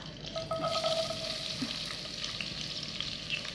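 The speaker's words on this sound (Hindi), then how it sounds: "ऑयल हमारे अच्छे से गर्म हो गया और अब मैं इसमें डालूंगी व्हाइट वाली प्याज।" White onion sizzles in hot oil in a kadai for chicken and vegetable fried rice, a steady, moderately loud frying hiss with faint clinks and no talk.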